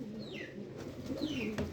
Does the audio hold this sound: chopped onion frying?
no